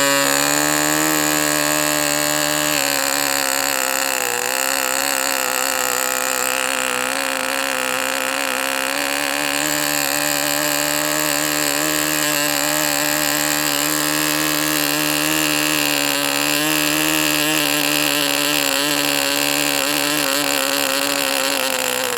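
A K&B 45 Sportster model engine runs steadily and loud at close range, a dense high buzz holding near-constant speed with slight throttle wavers throughout.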